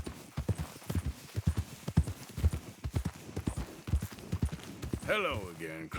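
Horse hooves clip-clopping in Red Dead Redemption 2: a steady, fairly close rhythmic clatter of hoofbeats at a walking pace, ending with a horse's whinny, and no talk.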